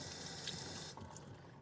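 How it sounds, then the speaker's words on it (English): Hot water runs from a tap over a soap mold holding hot process soap, a loud steady gush that shifts and thins partway through. "But I'm gonna just run this under a little hot water"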